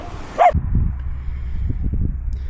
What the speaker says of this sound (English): apart from the noise of this dog